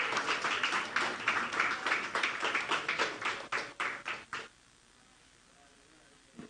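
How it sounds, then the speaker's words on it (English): A round of applause at an education ministry news conference: a few people clap in a sparse, uneven burst for about four seconds, then it stops abruptly into quiet room tone. "I think that deserves a round of applause."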